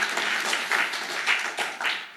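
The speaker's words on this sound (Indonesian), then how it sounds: "Tepuk tangan untuk Tuhan." A church congregation claps during a sermon, a short burst of scattered, uneven hand clapping at moderate volume with no speech over it.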